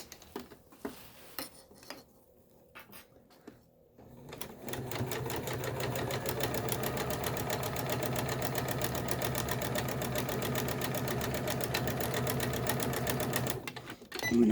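A sewing machine stitches elastic onto a fabric face mask, a loud steady mechanical whir with rapid needle clatter running continuously for about ten seconds after a few quiet handling taps, then stopping abruptly.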